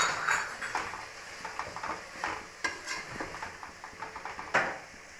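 Mint, fenugreek and coriander leaves being stirred in a pan for chicken biryani, with repeated scraping and stirring clinks over a soft sizzle, close and steady, no voices.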